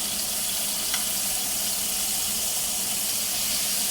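A ribeye steak sizzling in a pan while being flipped, a loud, steady crackling hiss of frying fat that fills the whole stretch, with a faint tap near the start.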